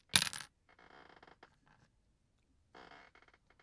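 A large D10 die with a tiny D10 rattling inside is dropped onto a table, giving a sharp clack followed by a run of rolling, skittering clicks that fade, then a second quieter burst of rattling.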